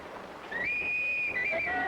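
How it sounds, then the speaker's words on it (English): A sustained shrill police whistle blast starts partway in and holds steady, wavering slightly, over a murmuring background of street traffic and crowd noise. "However, the police whistle and accompanying crowd surge gave McCabe his cue to cross."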